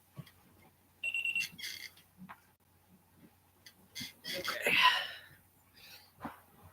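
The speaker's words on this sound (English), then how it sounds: "What kind of beeper here? How do I turn that off?" An electronic beeper goes off in short, high bursts of rapid chirps, some faint and one louder cluster, while a person talks quietly nearby.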